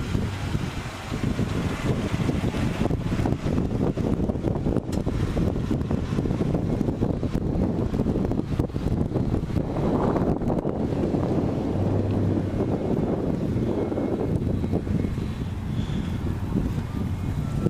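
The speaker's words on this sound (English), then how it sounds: "It's kind of windy" Steady wind buffeting the microphone, a loud low rumble with gusty swells that runs through the whole clip, with no voices.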